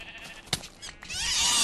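A sheep in the Minecraft video game gives a short, fairly faint bleat, with game noise around it and rising hiss toward the end.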